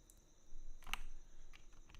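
Keys tapped on a Melgeek Cyber 01 rapid-trigger mechanical keyboard, a few sparse, muted clicks with one sharper keystroke standing out, close and fairly quiet with no talking.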